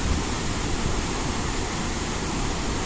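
Chitrakot waterfall with brown, muddy water pouring down, a dense, steady, loud roar of rushing water with no pauses.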